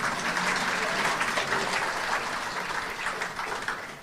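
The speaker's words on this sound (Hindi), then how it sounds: "ताली बजा लो आप" Sustained applause from an audience at a Hindu religious discourse (katha) on the Mahabharata, a dense steady clatter of clapping hands filling the whole stretch without a break.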